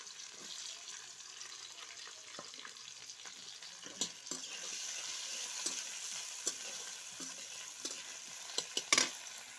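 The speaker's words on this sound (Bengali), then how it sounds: "পেঁয়াজ আর টমেটো ভাজা হয়ে গেছে।" Sliced onion frying in oil with black cumin (kalo jire) makes a quiet, steady sizzle and hiss, with occasional light stirring clicks and a few sharper taps toward the end, with no talking.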